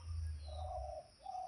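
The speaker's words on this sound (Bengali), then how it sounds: "এই দেখো পাখির আওয়াজটা শোনো" A bird, dove-like, gives two drawn-out cooing calls in the morning, moderately close, over a low rumbling background and a thin high whine.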